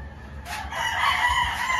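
A gamecock rooster crows once, close and loud, its call rising and holding across most of the moment against a low background rumble.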